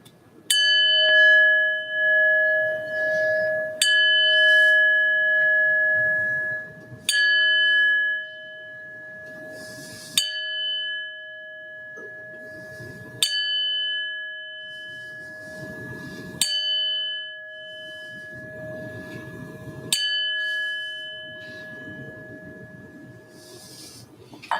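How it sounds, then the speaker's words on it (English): A church bell at a Unitarian Universalist Sunday service rung seven times, each bright clear strike followed by a long sustained ringing tone, spaced a few seconds apart in a quiet room. "I'll ring the bell 7 times in honor of our 7 Unitarian Universalist principles."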